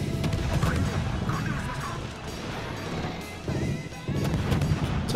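Ship guns in the naval game World of Warships, destroyer Akizuki, fire in repeated heavy booms and crashes over a constant roar of battle, loud and close with no talk.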